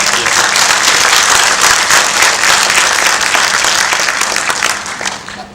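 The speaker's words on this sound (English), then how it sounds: "can we just have a quick round of applause for the panel members also?" A crowd at a 5G technology talk and Q&A session gives the panel members a round of applause, a dense, even clapping that holds loud and steady before starting to fade at the end.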